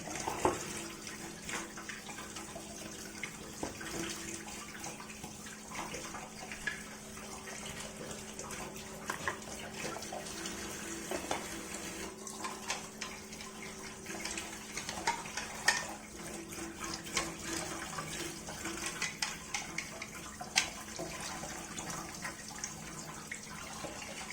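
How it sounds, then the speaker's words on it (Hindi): Rotimatic roti-maker parts are rinsed under a running kitchen tap, giving a steady, soft splashing water stream with small clinks of the parts throughout, no talking. "ये देखिए मैंने ऐसे नॉर्मल पानी से इसको वॉश कर लिया है।"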